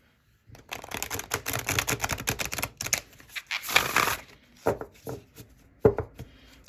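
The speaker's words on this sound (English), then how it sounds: "it riffles and it bridges really well" A tarot deck riffle shuffled by hand: a long run of rapid crisp card flutters, then shorter riffles and soft bridging cascades, close and fairly loud with no talking.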